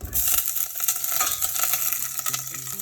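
Onion frying in a kawali pot over a medium flame makes a continuous sizzle, with stirring scrapes and faint clinks of a utensil. Brief voice tones appear near the end.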